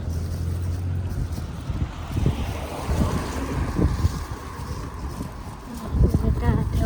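Strong cool wind gusting outdoors in the evening during stormy weather, buffeting the microphone with a roaring, uneven rush that swells and fades, with a voice speaking intermittently beneath it.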